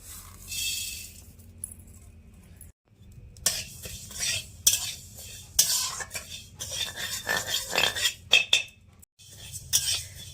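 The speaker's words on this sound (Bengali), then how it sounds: "চাল কুমড়োটা কাঠখোলায় ভেজে নিচ্ছি" Ash gourd being dry-roasted in a pan with no oil and stirred, giving repeated scraping and clinking of a utensil against the metal pan in uneven bursts with short pauses.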